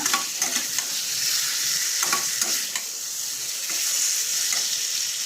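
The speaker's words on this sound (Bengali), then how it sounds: "আর একটু ভালো করে ভেজে নেব।" Boiled food fries in a pan under a constant crackling sizzle, with repeated stirring scrapes and taps throughout; nobody talks.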